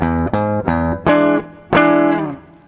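Electric guitar plays the second-time-bar riff of a song: five sustained chord and note strikes in an uneven rhythm, loud and close, with ringing overtones and no voices.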